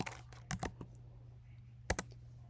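Keystrokes on a computer keyboard, a handful of sharp clicks in two short bursts over a steady low hum, close and fairly quiet.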